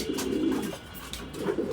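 A pigeon coos softly in low, throaty warbles, two short bursts separated by a brief pause, close by with no talking.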